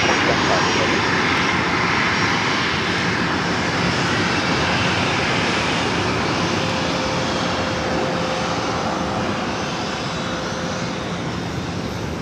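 A United Airlines Boeing 787-9 Dreamliner bound for Shanghai rolls for takeoff at LAX, its engines producing a loud, sustained, broadband roar that holds steady throughout, with voices talking over it.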